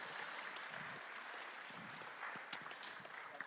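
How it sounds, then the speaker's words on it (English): Conference crowd at a hacking event claps as a presenter walks up to the stage, a steady, fairly soft spread of applause lasting a few seconds with a couple of sharper claps standing out. "So Leorak, bring a round of applause."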